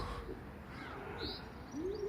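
Homing pigeons perched up high in England, cooing in a few soft, near-faint calls with an occasional chirp over a light outdoor background hum, no talk.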